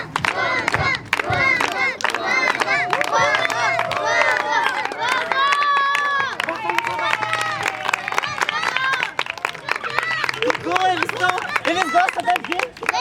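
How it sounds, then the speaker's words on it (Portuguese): A theatre audience shouts and cheers together in a loud, continuous crowd roar of many voices, with some clapping mixed in. "Depois, vocês batem uma palma e gritam pra ver se ele vem"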